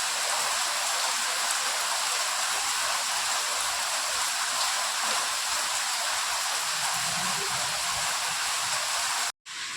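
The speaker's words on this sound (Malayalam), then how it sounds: "ഭയങ്കര മഴ അല്ലേ?" Heavy rain pours in a steady, dense hiss that fills the whole stretch, loud and unbroken, with a brief cut near the end and no voices.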